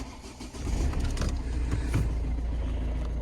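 The diesel engine of an old car cranks and catches, then settles into a loud, steady, low idle with a rough rumble, close up and without talk.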